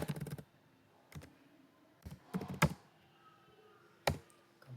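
Typing on a computer keyboard in short bursts of quick, close key clicks separated by quiet pauses.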